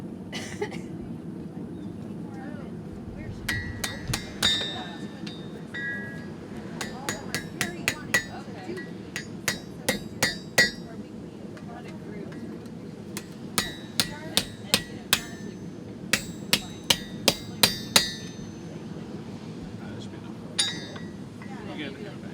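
Metal is hammered on an anvil while guns are reworked into gardening tools: a series of sharp, ringing clinks in irregular bursts, close and loud, with a low background murmur of voices.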